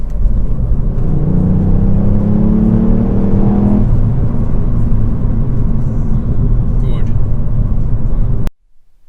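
A Ford Fiesta ST Mk8 drives with a loud engine note that climbs in pitch as it revs, then settles into steady road rumble before cutting off abruptly at the end.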